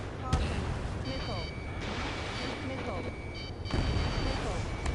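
Booming missile explosions and low rumbling impacts in the jet combat video game Ace Combat 7, with a steady roar of battle noise under radio-style voices talking throughout.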